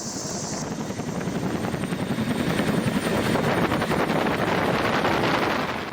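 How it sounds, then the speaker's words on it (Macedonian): A police helicopter's rotor thumps in a rapid, steady pulse while fighting a wildfire, loud and close, growing slightly stronger, with wind rumbling underneath. "Двата полициски хеликоптери делуваат на овој регион од рано изутрината"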